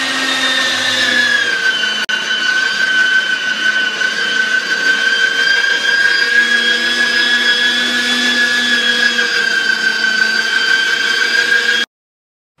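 An electric grinder mincing bananas and bread runs steadily, a loud high motor whine with a slight wavering pitch for about twelve seconds before cutting off abruptly.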